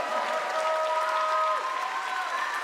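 Audience at the EC2U Science Contest during the EC2U Forum 2025 public session, applauding steadily for the competing teams. Dense, even clapping holds at one level throughout, with some tonal hum or music underneath.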